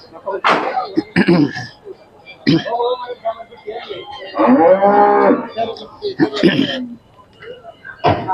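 Khillar cattle at a cattle market in Sangola, Solapur give a loud, drawn-out moo in the middle, close by, between short bursts of nearby voices and other animal calls.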